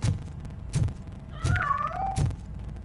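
A cat in the video game RoboCop: Rogue City gives a short, wavering meow near the middle, set among several dull thumps and knocks at a moderate distance.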